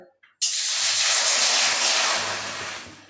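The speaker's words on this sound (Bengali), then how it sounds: "এবার সেই কড়ার মধ্যে দিয়ে দিচ্ছি জল" Water poured into a hot kadai on a gas stove for boiling dal erupts in a loud, close burst of steamy hissing that sets in abruptly and slowly fades over a few seconds.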